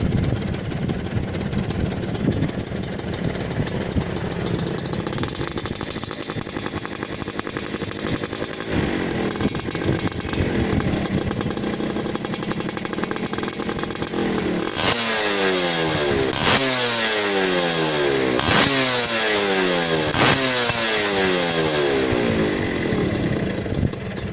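A Suzuki Satria 120R motorcycle fitted with a modified bobokan exhaust, a loud, raspy engine idling close by, then repeatedly revved in sharp rising bursts, with no talk over it.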